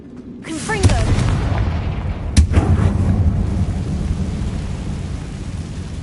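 In Hogwarts Legacy, the Confringo explosion spell goes off as two heavy booms, the second louder, each trailing into a long, low rumble that fades slowly.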